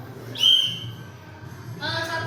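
A single short, shrill whistle blast during a school group activity, close and fairly loud, followed by a brief murmur of voices.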